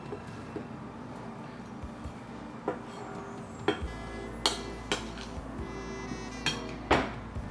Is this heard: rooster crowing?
no